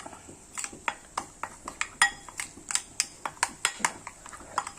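A spoon stirs avoli fish curry masala with kudampuli in a pot, making close, rhythmic clinks and scrapes against the metal, roughly two or three strikes per second.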